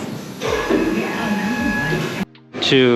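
A balancing machine spins a tire from an Audi S3 8V in a workshop, giving a steady whirring hum with a tonal whine that runs for about two seconds, then stops abruptly before a new harmonic-rich tone starts.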